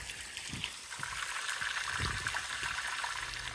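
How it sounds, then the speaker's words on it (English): Water draining from an above-ground pool through a filter valve set to waste: a steady, fairly quiet rushing trickle with a few soft gurgles, with no voices. "Now we'll put it on waste and start emptying the pool."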